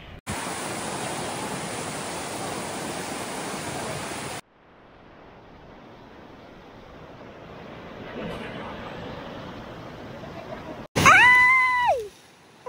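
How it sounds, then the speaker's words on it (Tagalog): Broad, roaring wash of strong crashing sea waves at Boracay fills the first few seconds, then a quieter rumble of water continues, with a voice briefly breaking in near the end. "Ganyan kalakas yung alon ngayon."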